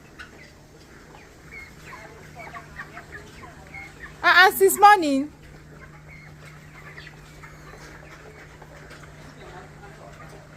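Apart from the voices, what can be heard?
chickens clucking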